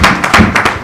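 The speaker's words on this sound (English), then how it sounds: "Let's give them a round of applause." Brief burst of audience clapping at an evening teachers' gathering, a few distinct broadband claps close together over less than a second, fairly loud with no talking.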